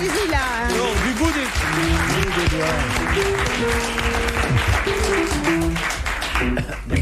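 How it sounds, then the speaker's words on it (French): Audience applause on a 1990 French television game show, a steady broadband clatter of clapping running the whole time, with music tones and voices threading through underneath. "On peut l'applaudir du bout des doigts."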